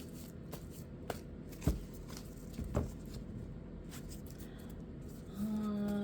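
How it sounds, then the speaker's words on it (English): Soft papery shuffling of tarot cards with a few sharp taps and riffles, close and quiet, ending in a low hum. "While I'm shuffling the card"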